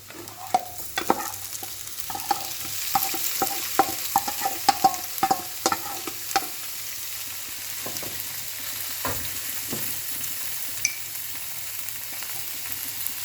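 Tofu stir-fried with sautéed onions, a steady low sizzle broken by repeated sharp clinks and scrapes of a spatula against the pan, busier at first and thinning out later.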